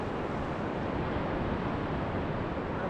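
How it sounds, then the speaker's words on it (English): Strong, bitter 20 mph northeasterly wind buffeting the microphone at the seashore during sea fishing, a steady dense roar with surf washing underneath, continuous and loud throughout without any voices. "we got a very bitter, horrible 20 mile an hour northeasterly wind"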